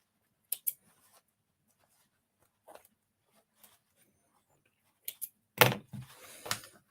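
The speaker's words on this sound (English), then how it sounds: "I have to snip these ends off." Scissors snip the ends of a zipper during a craft session, giving a few sharp clicks and cuts separated by quiet gaps, with a louder burst of handling near the end.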